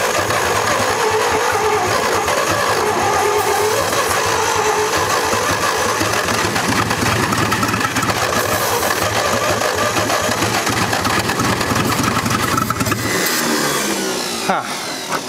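An old truck, abandoned in the woods and recovering from a locked-up engine, cranks and runs with a loud, continuous, rough mechanical clatter that stays steady for most of the clip before easing near the end.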